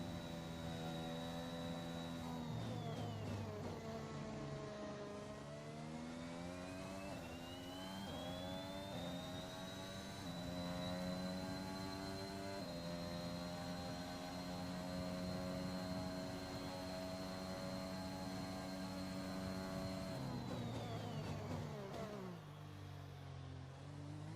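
An F1 car engine screams through a qualifying flying lap in the F1 2021 video game, pitch climbing and dropping with upshifts and braking for corners across a long continuous run, loud and close with no voices.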